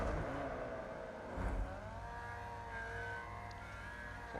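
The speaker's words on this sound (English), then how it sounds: "Banks doing some celebratory burnouts" A Formula Vee race car at Tsukuba Circuit in the iRacing video game does celebratory burnouts, its engine droning and revving in long rising tones with a brief louder surge.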